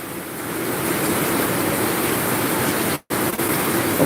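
Floodwater rushes hard down a swollen creek after rain, a dense, continuous roar of churning water. It stays close and loud, broken once by a brief dropout near the end, and no voices are heard.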